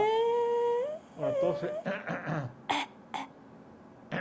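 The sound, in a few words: patient coughing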